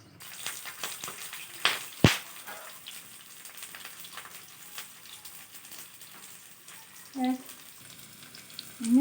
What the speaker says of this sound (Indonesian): Kita akan menggoreng bawang merahnya guys.